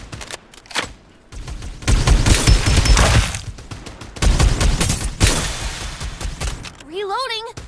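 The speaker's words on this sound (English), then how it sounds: "Time for some artillery. Open fire!" Farlight 84 gameplay gunfire: heavy rapid bursts of automatic shots and booms in several loud volleys, near and punchy, with a game voice speaking between them.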